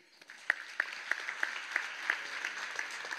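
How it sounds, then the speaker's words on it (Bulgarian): Audience applause, a steady wash of many hands clapping with some sharper claps standing out, moderately distant. "Аплодисменти!"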